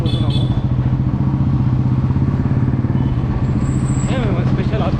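A motorbike ride through Bangalore streets toward a coffee cafe, with a steady engine drone and road rumble throughout while a person talks over it and other traffic passes nearby.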